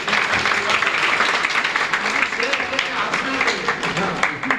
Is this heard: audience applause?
yes